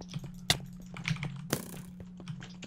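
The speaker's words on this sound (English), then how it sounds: "Sorry if you heard my keyboard" Computer keyboard typing during a Minecraft gaming session: a run of quick, uneven key clicks with a few sharper louder strikes, close and fairly quiet over a steady low background hum, with no talking.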